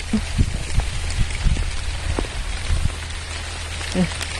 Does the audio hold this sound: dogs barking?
no